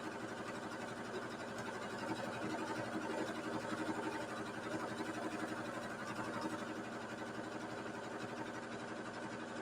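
A sewing machine runs continuously, stitching two fabric pieces together, a steady mid-pitched mechanical whir that holds even and unbroken throughout without pauses.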